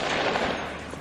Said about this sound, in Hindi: बाहर गोलियों की आवाजें गूंज रही थी।